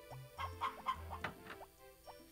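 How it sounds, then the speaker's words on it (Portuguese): A chicken on the farm in the video game Harvest Moon: Back to Nature clucks in a run of short, evenly spaced bursts. The clucks are fairly close and clear over a low, steady game tone. "Tem uma galinha pra fora, tem que colocar lá pra dentro."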